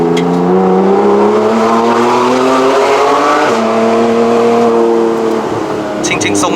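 A 2015 Porsche 911 GT3 RS with its naturally aspirated 4.0 engine pulls hard uphill on the Genting mountain road in Malaysia, a loud, steady engine note climbing in pitch through a gear, then dipping and rising again near the end.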